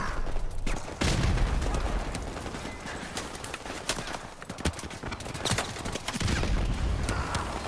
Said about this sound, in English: We're getting fired at from all angles.